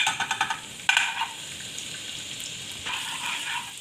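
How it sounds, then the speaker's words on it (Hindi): Ginger added to a little oil in a pan for a chicken sandwich filling: a few close knocks and a burst at the start, then a steady hiss and sizzle that swells again near the end, with no voices. "एक पैन लेंगे, थोड़ा सा ऑयल ऐड कर देंगे, हाफ टेबल स्पून अदरक डाल देंगे"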